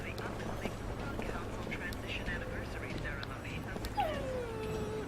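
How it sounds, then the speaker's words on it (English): Dog whimpering in the video game Lost Odyssey: thin rising and falling whines, including one clear descending whine, under steady game background noise and soft nearby talking. "Oh, good dog."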